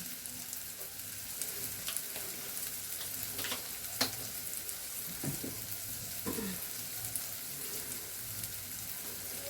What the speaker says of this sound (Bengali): এবার এগুলোকে একসাথে যথারীতি নাড়াচাড়া করতে থাকবে